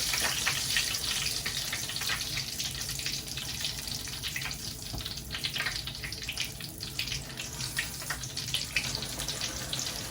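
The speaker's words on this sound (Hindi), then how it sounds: "यहाँ बन रहे जी भटूरे, पूड़ियाँ।" Bhature and puris fry in hot oil, giving a steady, close hiss and crackle of sizzling that runs evenly throughout.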